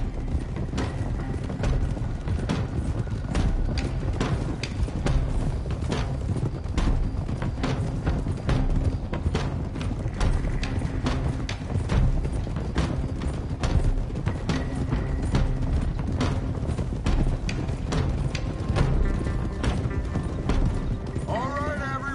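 A group of riders on horseback moves steadily, with hoof clip-clops that keep coming, dense and irregular, over a continuous low rumble. A horse whinnies briefly near the end, and voices can be heard faintly in the background.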